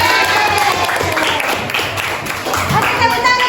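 A room full of people claps and cheers at a teacher performance assessment in Madura, Indonesia, a dense patter of applause mixed with voices, fairly loud and steady throughout.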